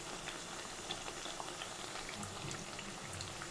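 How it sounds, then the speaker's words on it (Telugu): Green gram vadas (pesara garelu) deep fry in hot oil, giving off a quiet, steady bubbling with scattered small crackles and no pauses. "మంచి డీప్ ఫ్రై అవ్వాలి"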